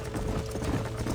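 Horse hooves clip-clop rapidly in a galloping rhythm in Red Dead Redemption, close and steady over a dense, rumbling background.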